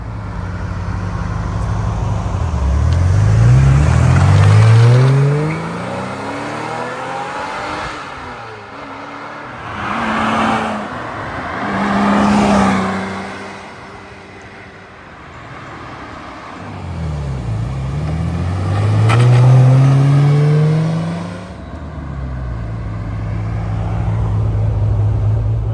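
A 1986 Ferrari Testarossa roars past twice, engine rising and falling as it approaches and pulls away, loud and close, with a quieter gap between passes.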